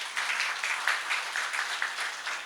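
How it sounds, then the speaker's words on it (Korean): Audience clapping at a volunteer policy forum in Incheon, a moderate, steady patter of many hands heard alone for a couple of seconds. "박수 한번 치세요."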